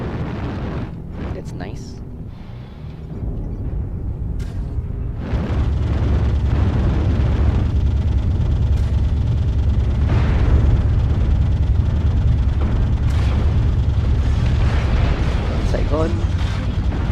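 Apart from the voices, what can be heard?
artillery strike explosions in Viper Redux video game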